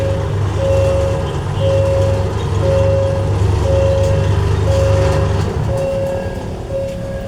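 Alstom locomotive number 4132 with an MTU engine passes a level crossing, its steady low diesel rumble loud and close throughout while a repeating high crossing-bell tone pulses at regular intervals above it.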